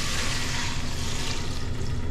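Steady rushing and splashing of water poured continuously into a cooking pot, loud and close, with no talking.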